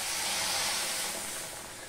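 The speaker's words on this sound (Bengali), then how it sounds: "এবার এর মধ্যে আমি দুধ দিয়ে দিচ্ছি।" Milk poured into hot fried semolina (suji) in a pan sets off a steady, bright sizzling hiss that runs throughout and eases slightly at the end.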